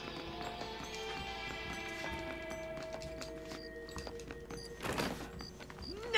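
Horse hooves clip-clop at a steady trot in Red Dead Redemption beneath a busy wash of game music and ambient effects, moderately loud.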